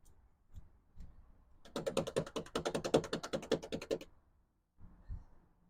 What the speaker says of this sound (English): Now, I'm just washing my brush while I let you guys look at the painting.